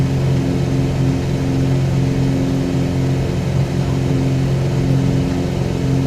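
A Cessna 182 single-engine propeller plane on its takeoff roll at Kalispell in Microsoft Flight Simulator 2020, with a loud, steady engine drone and a droning propeller hum throughout, close and alone.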